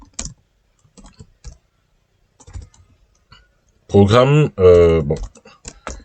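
Typing on a computer keyboard: a few scattered soft key clicks in short bursts, then someone speaks over quieter tapping near the end.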